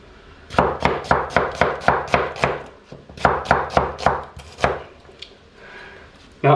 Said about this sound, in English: Now, I could slice the onions like this and make little semicircles, little half rings.